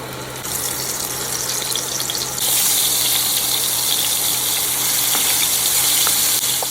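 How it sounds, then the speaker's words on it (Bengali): Leftover refrigerated onion fritters (peyaji) refried in hot oil, giving a steady, close, broadband sizzling hiss that grows noticeably louder partway through and then holds constant, with no talking. "সেগুলোকে এখন আরেকবার একটু ভেজে নিলাম।"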